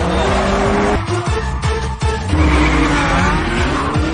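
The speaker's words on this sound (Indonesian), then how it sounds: "bersama sahabatnya bernama Sidu sedang memacu mobil milik pelanggannya yang membuat Sidu ketakutan karena cara mengendara Pir terlalu ugal-ugalan." In a film scene, a customer's car is driven recklessly, its tires squealing and skidding under a loud, continuous roar of engine and road noise.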